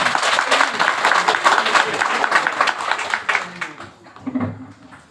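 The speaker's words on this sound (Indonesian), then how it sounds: "beri tepuk tangan yang meriah" Hearty applause from an audience at a village head candidates' vision and mission presentation, dense clapping that fades after about four seconds into a voice speaking.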